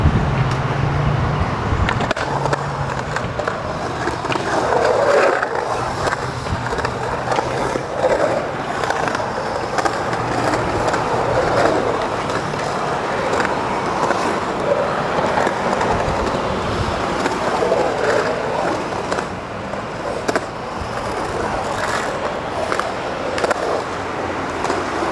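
Skateboard wheels roll and rumble continuously around a large, deep, empty pool at Culver City Skatepark, the hard urethane roar rising and falling with the carves, with a few knocks and scrapes over steady afternoon ambience.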